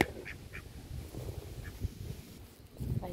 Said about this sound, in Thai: น้องเป็ดนอนอาบแดดสวยเลยค่ะ